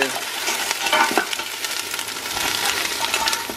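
Crabs frying in a pan with chili, garlic and ginger, a steady crackling sizzle with stirring scrapes and clicks running throughout, close and fairly loud.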